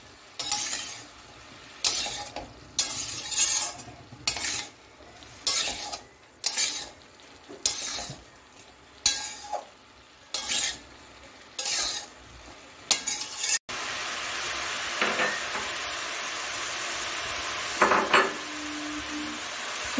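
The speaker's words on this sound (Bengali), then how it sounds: "এখন সবজিটা ভালো করে নুন হলুদের সঙ্গে মিশিয়ে নিচ্ছি।" A spoon stirs winter vegetables (potato, beans and cauliflower) with salt and turmeric in a pan, giving repeated rhythmic scraping strokes, followed by a steady frying sizzle; close and fairly quiet, no talking.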